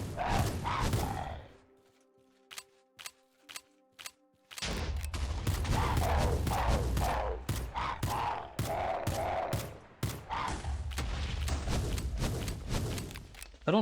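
Gunfire aimed at the Hydra in CrazyCraft, a modded Minecraft game set in the Twilight Forest: rapid bursts of video game shots, loud and close, broken by a brief lull with scattered single shots before a long, dense volley.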